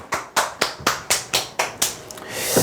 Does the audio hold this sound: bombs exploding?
no